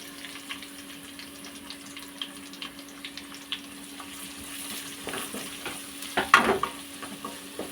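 Onions, garlic and curry leaves sauté in a pan with a steady low sizzle and scattered stirring scrapes, which build to a brief louder clatter near the end, with no voices.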